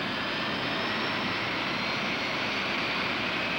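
A military jet airplane engine roars in a steady, loud, unbroken hiss and rumble, close by, with no voices over it.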